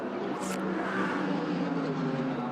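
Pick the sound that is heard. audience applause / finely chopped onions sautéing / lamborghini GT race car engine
lamborghini GT race car engine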